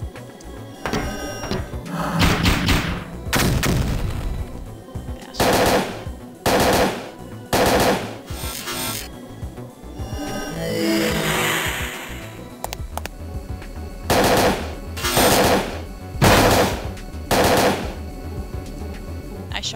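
Parasite Eve 2 combat with bursts of machine-gun fire and single gunshots, loud and close, arriving in rapid clusters separated by short pauses and other game sound effects.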